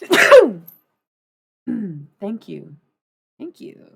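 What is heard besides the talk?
sneeze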